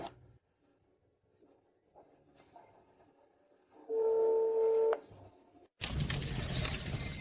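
Dialing an outgoing telephone call in an Indonesian drama scene: near-silence, then a steady electronic tone lasting about a second, followed by a burst of louder broadband noise.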